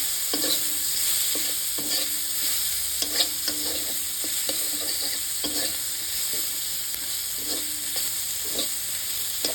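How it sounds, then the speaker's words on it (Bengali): Chopped onions tipped into a hot pan for soyabean curry, with a steady close sizzle of frying and repeated scraping, clattering stirring strokes throughout, no voices. "আগে থেকে কাটা পেঁয়াজগুলি একের পর এক ঢেলে নিচ্ছি।"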